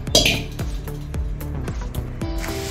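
Utensils clink and clatter in a kadhai as sugar goes in for Mysore Pak, with several sharp metallic knocks and scrapes spaced through the clip, close and moderately loud, with no talking.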